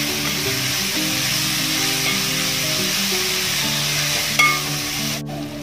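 Onions sauté in a pan for a Kerala-style beef curry, giving a steady close sizzle with occasional stirring scrapes and a sharp clatter near the end.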